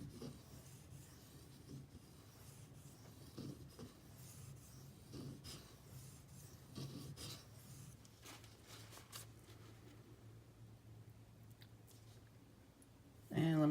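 A Spyderco knife with H1 steel is sharpened on a Nubatama bamboo 6000-grit whetstone, giving quiet rhythmic rubbing strokes, faint and close, repeating steadily with a louder clunk at the very end.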